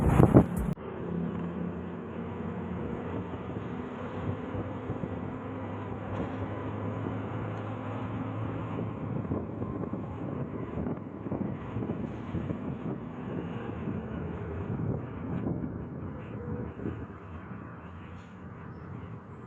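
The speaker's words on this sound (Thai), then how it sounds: "ตอนนี้ก็ได้ขึ้นรถแล้วเนาะนั่งสักพักหนึ่งเนาะทุกคน" Steady low engine rumble fills the cabin of a vehicle creeping through Thai traffic slowed by roadworks, a continuous drone with no voices.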